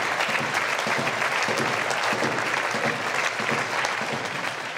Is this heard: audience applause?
yes